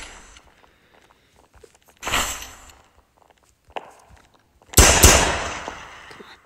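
Gunfire from a gun in a Roblox SCP roleplay game, two sharp bursts a few seconds apart, each a loud crack followed by a brief decaying tail, with faint clicks and quiet gaps between.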